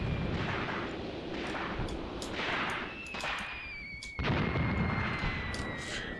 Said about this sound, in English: the mortars are the mortar is doing a good job